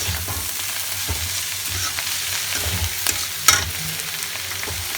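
Bethua saag greens coated in spices fry in a pan while being gently stirred, a continuous close sizzle with soft scrapes and one sharper clack near the end.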